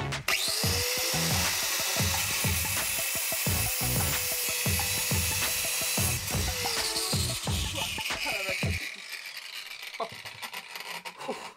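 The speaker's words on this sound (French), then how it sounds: "Je vais utiliser une meuleuse et un disque à couper le métal." An angle grinder fitted with a metal cutting disc slices through a steel bar, a loud steady whine and rasp with pulsing grinding strokes that stops abruptly near the end, leaving faint handling clatter.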